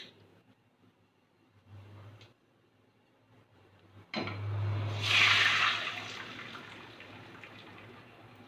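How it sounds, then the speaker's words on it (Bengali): Lentils are poured into a wok of hot oil after tempering, setting off a sudden loud hissing splash that rises sharply and then slowly fades, after quiet low kitchen hum. "ডালটা ছেড়ে দিলাম।"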